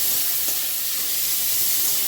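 Garlic and onions frying in oil in a special seasoned kadai, a constant close, loud sizzle with faint stirring, nothing spoken.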